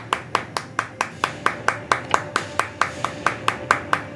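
Steady, evenly spaced hand claps, about four per second, sharp and close, repeating throughout without a break.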